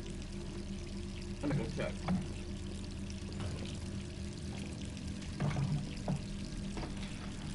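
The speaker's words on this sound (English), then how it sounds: "Turn off that water." Water runs and pours steadily indoors, a constant gushing wash lasting throughout, with occasional clinks and someone speaking over it.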